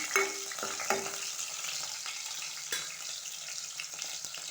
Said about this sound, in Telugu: ఆయిల్ వేడెక్కిందండి పచ్చిమిర్చి పచ్చిమిర్చి వేసానండి